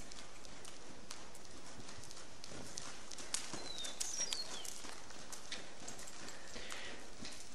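An Andalusian colt shifts its hooves in a grooming stall while being tacked up, giving sparse, soft clip-clops beneath a steady wash of background noise.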